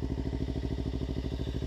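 Motorbike engine held at a steady rev while a learner rider works the clutch, a close, even, rapid pulsing throb with no pauses.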